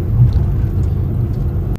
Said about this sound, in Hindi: सैटरडे की वजह से ट्रैफिक बहुत ज़्यादा है यहाँ पर